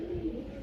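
A domestic pigeon cooing close by, a single soft low throaty coo in a short moment with no talk.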